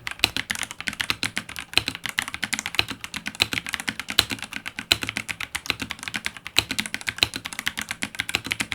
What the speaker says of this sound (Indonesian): dia udah pakai switchnya sendiri, switch yellow switch ini yang suaranya lumayan oke.